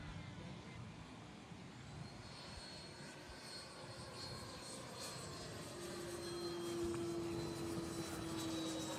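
An F-22 Raptor fleet jet landing at an airstrip, heard as a steady, distant engine roar under broad wind-like noise that swells slightly louder toward the end, with a faint whine rising in the last few seconds.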